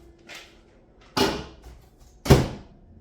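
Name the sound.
microwave door opening and closing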